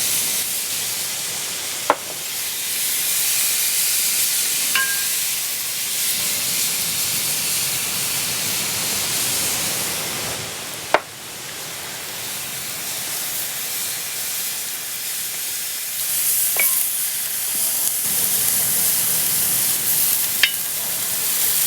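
Fennel and cumin seeds frying in a hot pan, a loud continuous sizzling hiss that holds steady throughout, broken by a few sharp clicks and taps from the pan.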